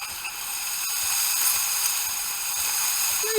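Steam hisses through the hose of a De'Longhi Smart espresso machine, a steady close airy rush that swells slightly midway and holds with no talk over it.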